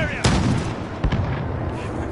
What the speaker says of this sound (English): I can hear a tank!